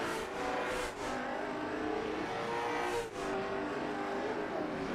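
Race cars roar around New Smyrna Speedway in a late model stock car race, a loud, continuous engine drone with slight surges as cars pass, where car 21 wrecks.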